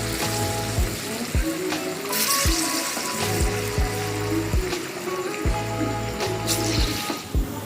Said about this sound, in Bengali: এইভাবে তাল ফুরুলি এইভাবে লাল লাল করে ভেজে তুলে রাখছি